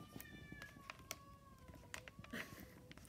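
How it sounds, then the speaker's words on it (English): A house cat meows several times in the background, faint and drawn-out with rising and falling tones, alongside light tapping and handling noises in a quiet room. "That's one of our cats."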